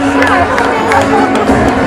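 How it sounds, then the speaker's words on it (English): A crowd at a SeaWorld San Diego orca show cheering and clapping for volunteers, a loud, dense mass of voices and applause with a talking voice mixed in. "everyone give our volunteers a big round of applause"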